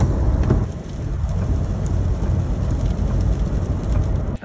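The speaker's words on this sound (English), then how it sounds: "it's starting to rain." Rain falling steadily outdoors with distant thunder rumbling underneath, a constant dense wash of drops on surfaces at moderate loudness, no voices.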